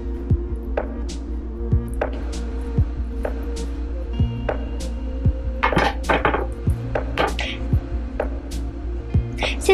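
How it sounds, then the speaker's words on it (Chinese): Knife cutting fat off a raw chicken on a cutting board, with scattered taps, scrapes and clinks of the blade and nearby kitchenware over a steady low kitchen hum. "鸡上面有一些位置就会有很多鸡油，我就会把这些部分呢切掉"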